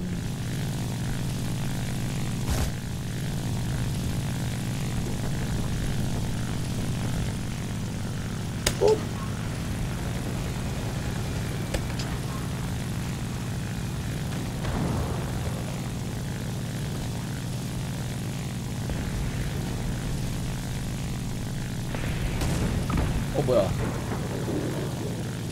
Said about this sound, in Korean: 극강화 폭격기.